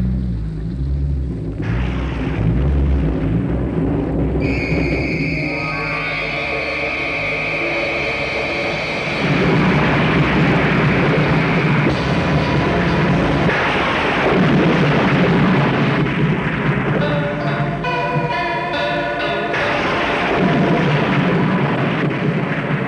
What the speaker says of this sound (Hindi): लगता है ये तूफानी रात